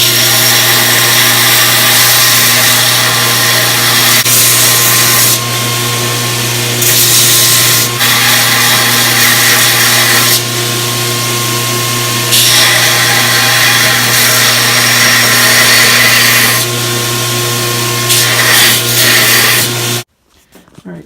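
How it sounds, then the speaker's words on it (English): A belt grinder works on a saw blade Damascus knife, a loud continuous abrasive whine with a steady motor hum, swelling brighter each time the blade is pressed to the belt, then cutting off at the end. "So I'm going to start grinding this now."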